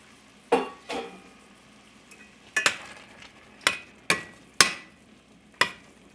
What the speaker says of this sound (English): we're going to put our peas in